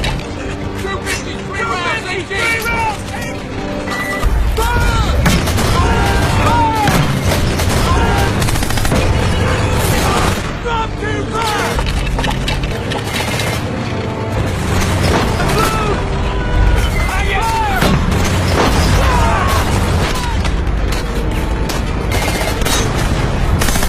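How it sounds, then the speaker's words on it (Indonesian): Mortar shells are launched during a World War 2 film battle, amid loud, dense combat noise of booms and gunfire that runs almost continuously, with a voice talking over it. "mereka langsung mengisi peluru mortar dan langsung diluncurkan ke arah musuh"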